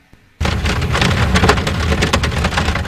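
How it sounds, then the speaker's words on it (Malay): Steady, heavy rain pours down at night on a car being driven. After a brief quiet start it becomes a loud, continuous wash of drops hitting the surfaces. "Tengah drive waktu hujan pada malam tu."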